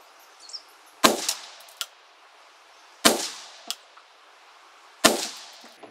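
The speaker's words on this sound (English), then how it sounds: "So let's go ahead and shoot 3 more rounds." Three loud, sharp rifle shots fired roughly two seconds apart while zeroing a red dot sight outdoors, each cracking sharply and followed by a brief metallic ping and short echo.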